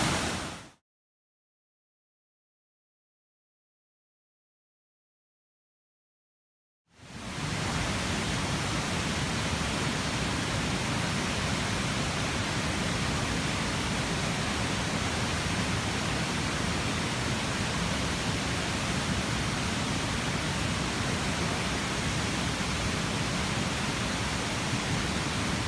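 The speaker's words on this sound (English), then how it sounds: "Right on the side of the waterfall." Steady broadband roar of a waterfall in Bells Canyon, heard up close from beside the falling water, continuous and loud after a few seconds of silence at the start.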